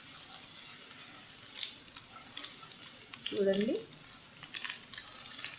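Light frying in a pan, a soft steady sizzle heard close with faint stirring scrapes and a brief voice partway through.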